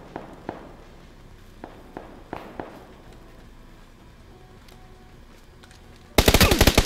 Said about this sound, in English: He's shooting over there.